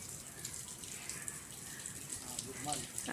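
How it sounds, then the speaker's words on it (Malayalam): Strong water gushes steadily in a banana plantation, a continuous rushing hiss like a small waterfall, heard fairly close, with faint voices in the background. "ശക്തമായിട്ട് വെള്ളച്ചാട്ടം ശക്തി പ്രാപിച്ചു വന്നിരിക്കുന്നു"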